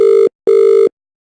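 An incoming call ringing on a GloCom softphone: two identical electronic ring tones, each about a quarter second long and separated by a short gap, loud and clean with no voices.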